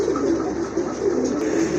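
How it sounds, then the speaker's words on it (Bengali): Fancy pigeons cooing close by in a low, soft, repeated warble over a steady murmur of background noise, with no clear speech. "আরেক জোড়া কবুতর"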